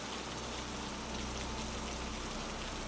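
Steady rain pours down in a dense, even hiss of countless drops striking a surface, constant and close throughout with no pauses or voices.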